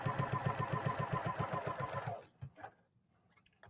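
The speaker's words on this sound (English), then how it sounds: "I think the sound of a sewing machine is so therapeutic" Sewing machine stitching steadily for about two seconds with a fast, even mechanical rhythm, then it stops, leaving a few quiet handling clicks.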